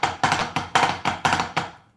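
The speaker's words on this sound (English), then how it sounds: "Second variation will be drag on the downbeat" Snare drum rudiment variation with a drag on the downbeat, about seven sharp close strokes in an even rhythm, each accent followed by a ringing tail, with no talk.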